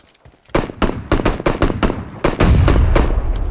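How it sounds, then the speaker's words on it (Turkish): Bursts of rapid gunfire in the battle-royale game PUBG Mobile, sharp repeated shots crack out close and loud after a brief quiet start, thickening into a dense continuous barrage toward the end. "Oo, bak fena sıkıyorlar ha."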